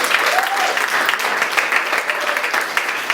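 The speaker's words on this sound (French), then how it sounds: "nous allons acclamer le Seigneur." Wedding guests at a church ceremony burst into steady applause for the Lord, a broad, even crowd clapping with faint voices and cheers mixed in.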